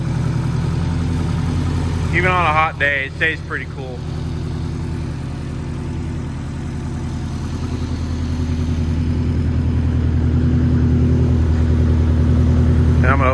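A 2008 Subaru STI engine idles steadily with a low, even rumble that grows slightly louder toward the end, while a person speaks briefly over it near the start.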